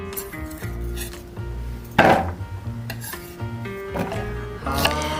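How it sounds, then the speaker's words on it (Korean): Knife chopping onion, carrot, cucumber and pepper on a board, irregular close knocks and scrapes with a sharper clatter in the middle, no talk. "양파, 당근, 오이, 고추 등 원하는 야채 적당한 크기로 잘라주세요."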